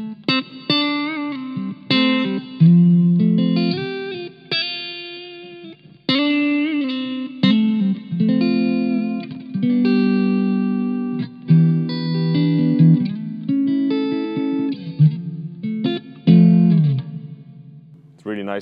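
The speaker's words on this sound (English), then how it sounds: "So let's move on to reverb number three." Electric guitar through a Blackstar Silverline amp on the clean channel with its third reverb type engaged: strummed chords and picked notes ring out and trail off into a reverb tail, played steadily and alone.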